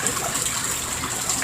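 A heavy rainstorm pours down in a dense, steady hiss of rain and rushing floodwater, loud and unbroken with no voices.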